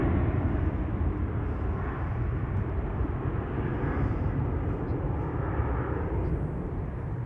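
A United Airlines Boeing 767 departing Amsterdam Schiphol makes a loud, continuous jet rumble heavy in the low end, steady and close, with no talking on top.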